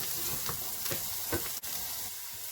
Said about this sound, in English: Stir them so they don't stick to the bottom of the pan.